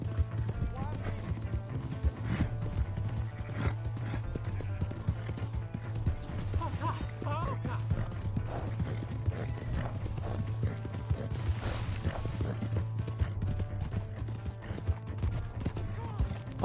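Horse hooves clip-clop steadily while riding in the video game Red Dead Redemption II, a regular trotting beat under constant low background drone and scattered speech.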